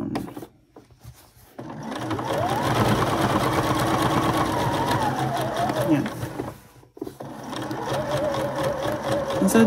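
A sewing machine stitches an apron in a steady, close mechanical whir that runs for several seconds, pauses briefly, then starts again, while someone talks over it.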